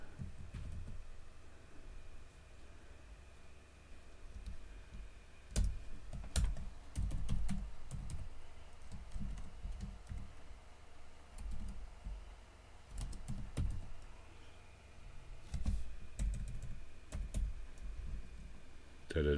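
Someone types on a computer keyboard during a livestream, with quiet keystrokes and louder clusters of clicks scattered through about nineteen seconds. Faint background sound runs underneath.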